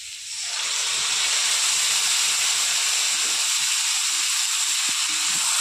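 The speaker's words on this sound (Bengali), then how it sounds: "ভালো করে মশলাগুলো কষিয়ে নেব।" A masala paste of ginger, onion, garlic, green chilli and tomato hits a hot pan with lightly fried potatoes, rising into a loud, steady, close sizzle and hiss that continues unbroken without speech.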